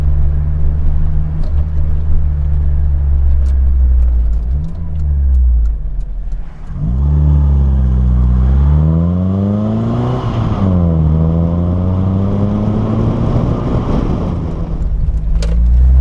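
An Austin Metro with a Maniflow exhaust runs close by, its engine idling with a deep burble, then revving repeatedly in rising and falling sweeps, loud and throaty throughout.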